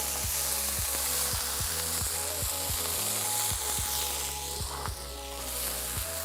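Smash burgers with bacon slices sizzle loudly on a Kadai live-fire bowl, a steady close frying hiss with low, repeating rhythmic thumps underneath.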